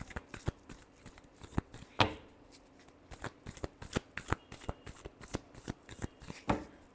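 A deck of tarot cards is shuffled by hand in quick, crisp riffles and snaps, repeated many times in a steady rhythm with a couple of louder flicks, close and alone.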